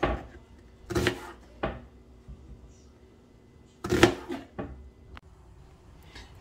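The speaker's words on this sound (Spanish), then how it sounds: "lo voy a picar finamente y lo voy a poner en esta ollita donde vamos a guisar nuestro bacalao" A knife chopping peppers, onion and tomato finely on a board for a salt cod stew, heard as two separate bursts of quick, close taps with quiet gaps between them.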